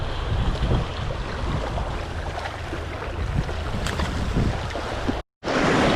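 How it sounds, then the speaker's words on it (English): Ocean waves splash steadily around a fishing boat out on late-summer fluke grounds, a loud continuous wash with wind buffeting the microphone, broken by a brief dropout near the end. "Got all kinds of waves splashing."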